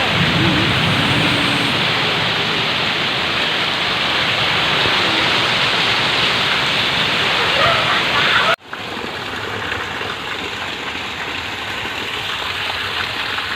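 Heavy rain with strong wind, a loud dense roar of downpour that drops abruptly and continues at a lower, steady hiss, with a voice speaking over it.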